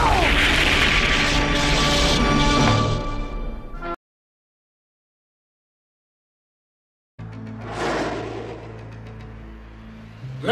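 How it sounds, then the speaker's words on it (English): A loud, roaring cartoon explosion tears through Optimus Prime in an animated Transformers scene, cuts to silence, then returns as a lower rumbling blast. "He's going to explode!"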